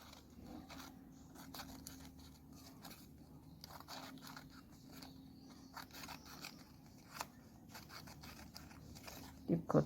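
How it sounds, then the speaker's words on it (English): Scissors snipping along a paper strip for a bulletin board border, a quiet, close run of irregular crisp cuts and crunches with a faint low background hum. "Keep cutting through the length of your strip"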